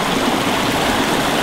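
Small mountain brook trout stream with a little waterfall feeding into slow water, a loud, close, steady rushing and splashing of water with no voices.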